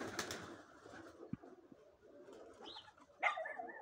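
Domestic racing pigeons cooing outdoors around their loft in the early morning, soft low coos spread across the clip with a louder burst of bird calls near the end, no speech.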